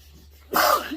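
A single sharp sneeze close by, bursting out after a moment of near silence.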